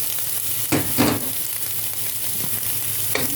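Eggplant fries with aromatics in oil in a pan, giving a continuous close sizzle broken by a few scraping stirs and no voices.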